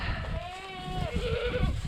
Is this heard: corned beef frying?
no